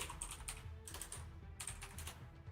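Someone types on a computer keyboard, close and fairly quiet, in two quick bursts of rapid key clicks with a short pause between them.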